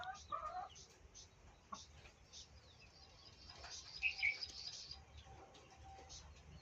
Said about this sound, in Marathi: अशा बघा कशा खेळताय आपल्या कोंबड्या